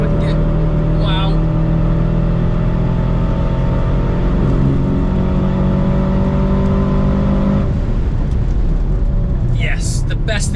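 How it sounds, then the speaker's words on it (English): A V8 engine in an Aston Martin Valkyrie AMR Pro accelerates hard on a race track, a loud sustained howl that climbs and then drops sharply near the end, with a voice audible at moments. "Sounds good too. Sounds angry V8."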